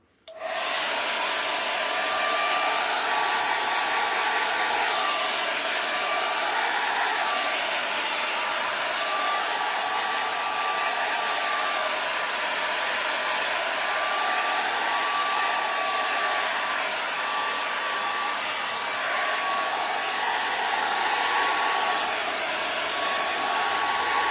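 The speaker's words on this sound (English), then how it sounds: "we're going to just run the dryer for a minute" A hair dryer blows steadily and loudly over fresh paint for the whole stretch, a constant whooshing roar with a faint wavering whine and no talking.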